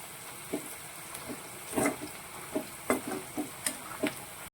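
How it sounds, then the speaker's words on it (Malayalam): Okra kurkure frying in hot oil gives a steady, close crackle with scattered louder pops and a soft sizzling hiss underneath, with no talking. "ഇത് എണ്ണയിൽ കിടന്ന് നന്നായിട്ട് ഫ്രൈ ആവണം"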